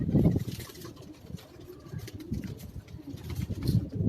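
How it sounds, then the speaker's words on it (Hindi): Pigeons coo steadily on a Karachi rooftop loft, soft rounded calls repeating close by with a low murmuring flock behind them and no voices. "बहुत ही आला कबूतर हैं।"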